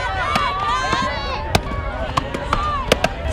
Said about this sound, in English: There's chopping events.